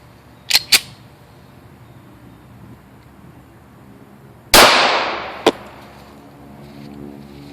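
.45 ACP pistol fire, with two sharp cracks early, then one loud shot with a long echoing tail and another crack shortly after, each standing alone over quiet background.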